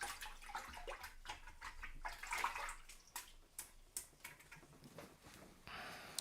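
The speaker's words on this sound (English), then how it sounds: "Let's rinse off our brush." An acrylic paint brush swished and rinsed in a container of water, giving soft, close splashing and sloshing with small taps against the rim, moderately quiet throughout.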